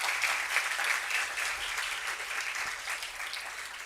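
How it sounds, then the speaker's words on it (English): Students clapping together at a college foundation day function, a moderately distant, even wash of applause that holds steady for a few seconds without any voices. "A clap for all of you."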